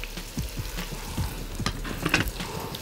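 Vegetables and softening onion sizzle in a pan for a seafood soup, with a few scraping stirs of a utensil over a low, steady fry.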